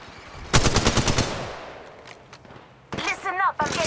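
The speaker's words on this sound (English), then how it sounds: "Stop, I'm getting shot at." Gunfire in the mobile battle royale game Apex Legends Mobile: a loud rapid automatic burst of about a dozen shots, followed by a quieter stretch and then a second cluster of bursty, chirping game effects.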